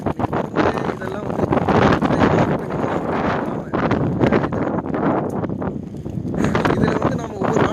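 Strong gusting wind of a heavy Canadian snowstorm, estimated near 70 km/h, roars and buffets the microphone continuously in loud surging waves with rushing, rustling texture throughout.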